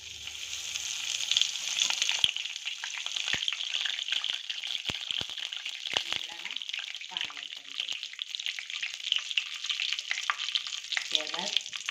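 Asafoetida frying in hot oil for a Gujarati carrot curry, a steady close sizzle with crackling pops throughout, a few sharp clicks of a spoon stirring in the pan.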